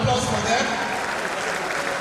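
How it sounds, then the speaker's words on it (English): An audience at a university convocation ceremony for the award of first degrees claps, loudest at the start and then thinning into a lighter, steady patter, with some speech-like sound mixed in. "A round of applause for them."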